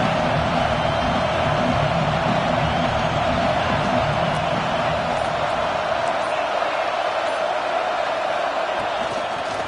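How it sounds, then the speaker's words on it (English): Huge football stadium crowd at Auburn versus Alabama greeting the visiting team, a loud, continuous wash of roaring and cheering that fills the whole stretch, with a commentator's voice over it at the start. "This crowd bringing an ear-splitting welcome to their visitors."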